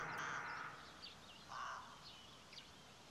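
Crows caw in trees in a sparse outdoor setting: two harsh, faint calls, one near the start and another about halfway through, with a quiet hush of background air between them.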